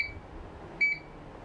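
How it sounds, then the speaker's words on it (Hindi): A multimeter set to continuity range gives a short electronic beep during a Vivo Y20 phone repair, with a faint tone at the start and a clearer single beep near the end, alone with no talk. "मल्टीमीटर को क्वांटिटी पॉइंट पे यानी कि बीप की रेंज पे सेट कर लेना है"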